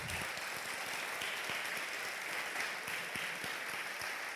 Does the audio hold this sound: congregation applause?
yes